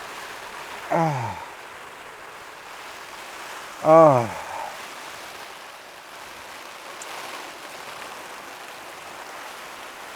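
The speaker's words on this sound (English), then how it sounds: "Oh, listen to that rain." Rain drums on a Hilleberg Nammajt 3GT tent during wild camping in the rain, a constant soft wash of noise heard from inside, broken twice by a short voice exclaiming.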